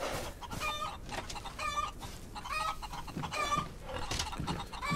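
Chickens cluck repeatedly from coops in the Old West video game Outlaws of the Old West, a busy overlapping flock of short bursts at steady moderate loudness with no talk.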